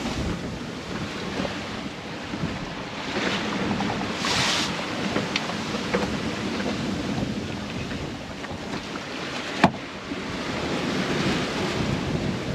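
Sailboat rolling in gusty wind and ocean waves near Huahine in the Leeward Society Islands, with a continuous roar of wind and surf, wind buffeting the microphone and a sharp knock near the end, with no voices.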